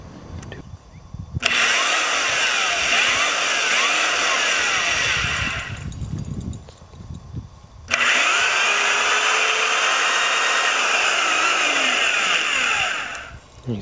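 A homemade mechanical cow driven by cables and an idler pulley whirs steadily under motor power for about four seconds. It pauses with low rumbling, then runs again for roughly six seconds, loud and close.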